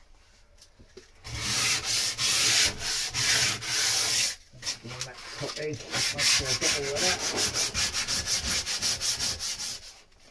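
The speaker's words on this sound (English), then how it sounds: "A little bit of hand sanding underneath, a couple of spots." Steady back-and-forth hand sanding, close and loud, settling into quick rhythmic strokes, with a brief spoken remark before it starts.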